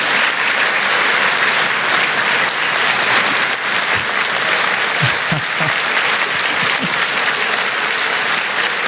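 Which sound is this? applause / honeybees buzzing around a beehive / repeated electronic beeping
applause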